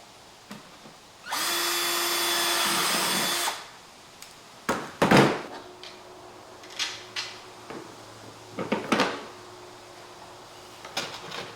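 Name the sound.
power drill drilling holes in a toolbox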